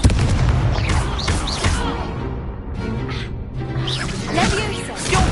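Blasting-curse explosions from a Harry Potter video game: repeated dense booms and bursts with whooshing spell effects, loud and continuous through the clip, mixed with a voice shouting.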